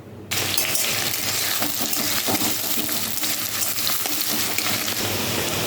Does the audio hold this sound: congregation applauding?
no